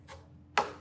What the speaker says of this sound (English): And then you can just kind of chop like this.